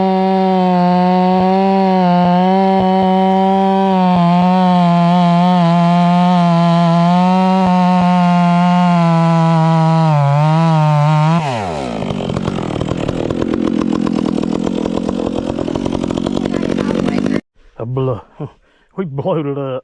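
A ported Farmertec Stihl MS660 chainsaw drives an Alaskan mill through logs, roaring loud and steady, then its pitch sweeps down as it bogs and strains in the cut, running lean before cutting out into a few short sputters near the end.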